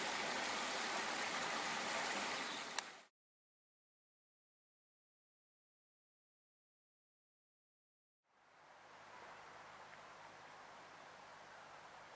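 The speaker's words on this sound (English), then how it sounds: "Babbling Brook, which I'm assured doesn't flood more than 3 times a year" A babbling brook near a campsite on the Pembrokeshire coast near Abermawr gives off a steady, soft rushing hiss that cuts out completely for several seconds and then returns.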